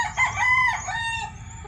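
A four-month-old red kelso gamefowl stag crows once, a loud close cock-a-doodle-doo lasting over a second that trails off at the end, heard alone without talk.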